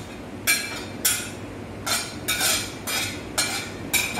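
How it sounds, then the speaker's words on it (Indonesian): Spices and leaves go into a wok and are tossed for stir-frying, producing a series of about seven sharp, bright metallic scrapes and clinks at an irregular rhythm, close and clear over a low background hum. "Saya masukin semua ke penggorengan."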